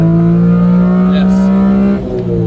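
Honda Beat kei car engine with individual throttle bodies revving hard, a loud steady high-pitched drone held close up before the pitch drops sharply near the end, with a voice talking faintly underneath.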